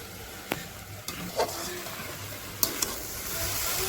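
Ladle stirring food in a kadhai while it fries and sizzles, a steady frying hiss with a few sharp scraping clinks of the ladle against the pan.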